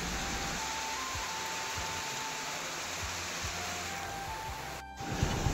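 Steady heavy rain hisses on a road on the way to a waterfall in Gajapati, Odisha, a dense even downpour with a few low thumps and a brief dropout near the end.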